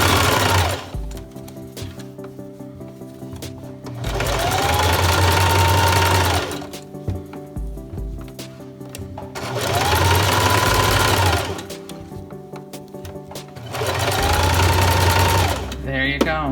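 A sewing machine zigzag-stitches along the edge of newborn baby pants in three long, fast, loud runs, its motor whining up and settling between bursts, with quieter pauses between runs and a short final burst.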